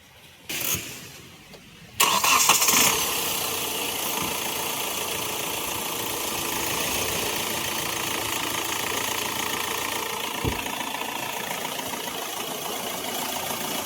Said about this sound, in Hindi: तो अभी मैं गाड़ी स्टार्ट करने जा रहा हूँ